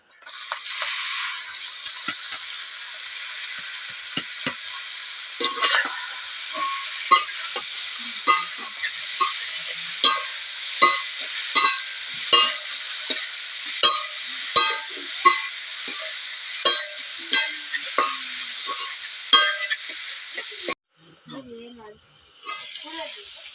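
Banana flower (mocha) being stirred and fried in a pan, with steady close sizzling and a regular series of scraping stirring strokes for about twenty seconds before the sizzle cuts off.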